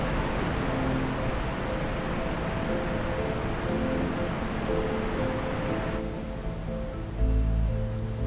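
Water rushes through a hydropower plant in Norway at four to five thousand gallons per second, a loud, dense, unbroken roar that holds steady throughout, with no voices.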